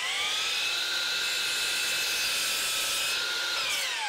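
A battery-powered DeWalt FlexVolt 12-inch miter saw whines loudly and steadily through a cut, with a bright, layered motor tone that shifts pitch as the blade winds down near the end.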